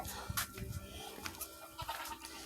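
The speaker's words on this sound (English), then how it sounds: "little bantam chickens." Small bantam chickens cluck in soft, scattered bursts at a moderate distance, with a few sharper calls breaking through faint background noise on a farm.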